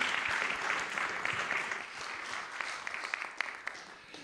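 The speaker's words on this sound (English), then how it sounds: "And a big round of applause for our panelists here." An audience at a COP28 forum on industrial decarbonisation claps for the panelists, sustained applause that slowly thins toward the end with a few louder individual claps.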